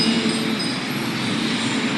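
An elevated electric skytrain rumbles steadily overhead above busy Rama I Road in Bangkok, beside Siam Paragon, a dense continuous roar of rail and wheel noise mixed with city traffic, fairly loud and without speech.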